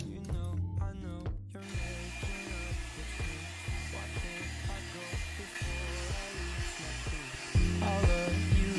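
A hot air brush hair dryer runs with its fan, a steady whirring hum beneath close handling clicks and rustles, with a louder surge near the end.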